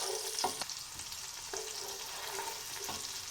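Chopped onion sizzles and crackles steadily in a small frying pan, a soft, continuous hiss with occasional stirring scrapes and no voices.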